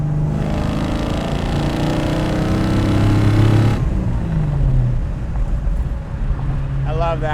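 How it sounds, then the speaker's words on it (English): Heavy V8 roar from a 1970 Dodge Charger restomod with a 650 HP Gen 3 HEMI, loud and close from inside the car as it accelerates, then easing off while a voice speaks over the engine. "You can just accelerate on this car."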